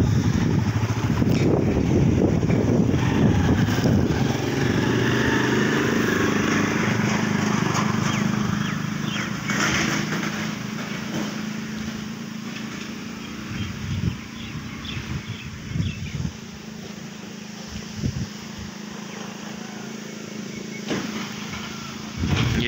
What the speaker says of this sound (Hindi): देखे कितनी तेज हवा चलती भी है।